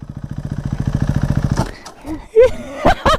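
A KTM Duke 390 motorcycle idles with a rapid, evenly pulsing thump at close range, then cuts out abruptly, followed by scattered clatter and bursts of talk.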